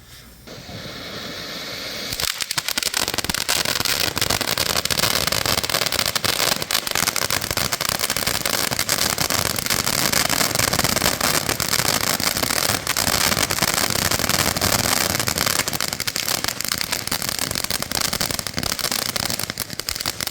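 Diwali firecrackers and flower pot fireworks bought as a gift box, set off outdoors in America, make a loud continuous crackling hiss with dense popping that runs steadily for about eighteen seconds after a quieter start.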